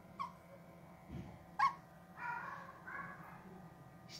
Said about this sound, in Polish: Pierwsze szczekanie.